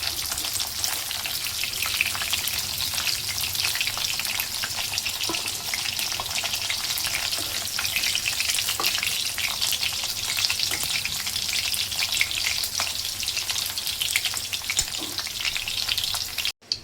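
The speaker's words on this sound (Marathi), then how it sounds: "याच तेलामध्ये आपण आता बटाटे फ्राय करून घेणार आहोत." Potatoes fry in hot oil in a pan, a dense, continuous crackling sizzle that holds steady and close throughout, with a few faint stirring clicks and no talk.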